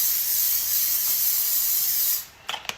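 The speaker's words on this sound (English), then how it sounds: "So we're gonna use olive oil cooking spray, you guys." A can of olive oil cooking spray lets out one long, steady, loud hiss for about two seconds, then cuts off, followed by a couple of faint clicks.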